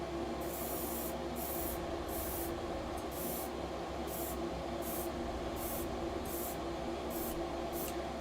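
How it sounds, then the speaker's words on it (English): Spray paint hisses onto a 1/100 scale MG Sinanju robot model kit in about a dozen short, evenly spaced bursts, each under a second long, over the steady hum of a nearby fan. "So, quick sprays, just to get it on there."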